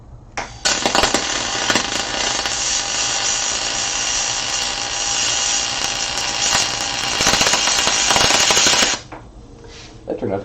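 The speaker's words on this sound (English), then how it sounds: "That turned out to be a pretty decent weld." Steady, loud welding arc crackle and buzz running continuously for about eight seconds, starting and stopping abruptly, close up, with no talk over it.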